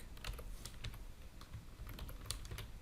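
Fingers type on a computer keyboard while coding, a steady close patter of light key clicks with irregular rhythm and no talk over it.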